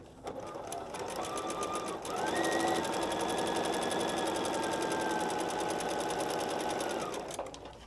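A sewing machine stitches a foundation paper pieced quilt block in one steady, fast run of about five seconds, starting and stopping cleanly, loud and close with no talking.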